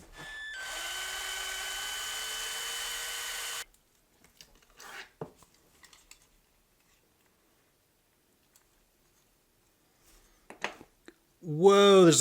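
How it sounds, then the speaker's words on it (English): A power drill whirs steadily for a few seconds while disassembling a Ford Bronco II toy car, then stops; scattered clicks and handling noises follow, and a voice speaks at the end. "Let me drill this thing first, so we'll get it apart"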